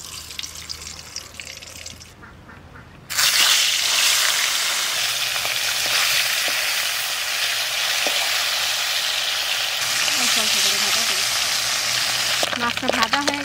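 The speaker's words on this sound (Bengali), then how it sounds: "কড়াইতে তেল দিয়েছি মাছ ভাজার জন্য।" Fish fries in oil in a kadai. A softer sizzle is followed by a short lull, then a loud, dense, continuous sizzle that holds close and steady to the end.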